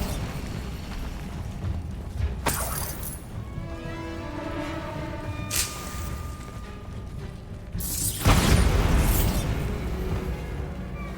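In the video game Hogwarts Legacy, the Bombarda spell explodes. Sharp bursts land at intervals over a rumbling game background, and a heavier, louder blast near the end rolls on for a few seconds.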